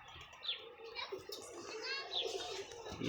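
Soft cooing and chirping of pet pigeons, called healthy, in pleasant weather, faint and intermittent, mixed with a voice and people talking nearby.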